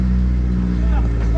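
A loaded vehicle strains on a rough, rain-washed unpaved road. Its engine drones loud and close in a low steady rumble while someone talks over it.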